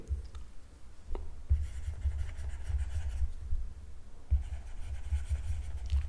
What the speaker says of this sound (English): I'll just write down a listing of languages that we or the classes that we know